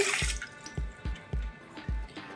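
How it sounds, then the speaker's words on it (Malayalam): Water splashes into a steel vessel in about six short, evenly spaced bursts, each a sharp, close watery plop with a brief ringing tail and quiet gaps between. "വെള്ളം ഒഴിക്കാം"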